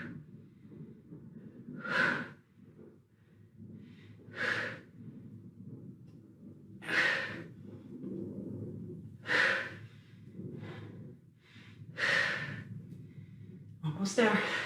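Steady rhythmic breaths during a held yoga pose, with five or six loud, sharp exhales spaced a few seconds apart over low background noise.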